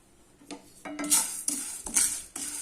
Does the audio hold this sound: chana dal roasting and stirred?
yes